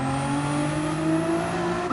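A race car engine in a sim racing game holds full throttle on the back stretch, a loud, steady high-pitched whine rising slightly in pitch, alone without talk.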